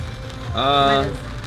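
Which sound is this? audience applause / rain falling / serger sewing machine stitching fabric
rain falling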